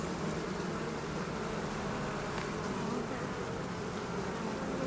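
Dense, continuous buzzing of many honeybees at a hive, close and steady, forming an unbroken hum with no pauses.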